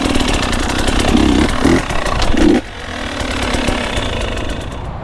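A trials motorcycle engine revs hard in first gear during a pivot turn, loud and close, its pitch climbing and then dropping off to a lower idle partway through.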